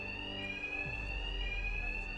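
A continuous electronic alarm rings steadily in Batman: Arkham Knight during a bank heist, with a piercing high tone held without a break over a low rumble of game ambience, loud and close, with no voices.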